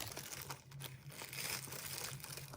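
Soft, steady plastic crinkling and rustling, close by, with small crackles continuing for a couple of seconds and no voices.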